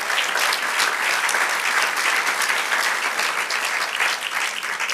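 A church congregation applauds during a sermon, a full, bright, continuous wave of clapping from many people, steady in level and fairly near, with no speech over it.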